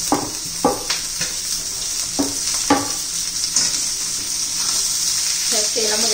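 Capsicum tossed into hot oil with already-cooked onion sizzles with a bright hiss, while a spoon knocks and scrapes the pan a few times and the frying grows denser toward the end.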